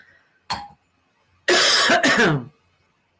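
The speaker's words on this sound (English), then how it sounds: "all of a sudden, as I got on here, I started coughing" A short throat-clearing cough, then a longer burst of harsh coughing nearby, separated by silence.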